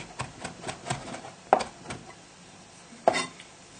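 A knife chops fresh thyme finely on a board, making quick light taps in an uneven rhythm with a few firmer knocks, close up and moderately quiet with no talking.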